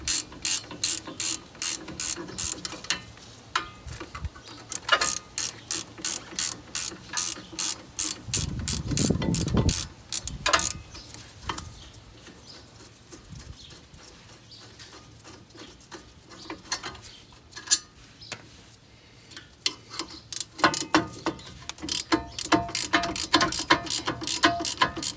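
Brake caliper bolts on a 2005 Honda Pilot are loosened and then removed with a ratchet. Rapid, close, metallic pawl clicks come in long runs with pauses between them, and a dull thump falls partway through.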